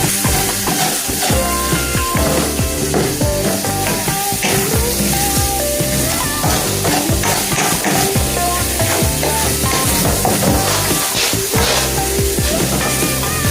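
Scrambled eggs fry on a stovetop with loud, dense, continuous sizzling and crackling, close up, with occasional stirring clicks and no talk.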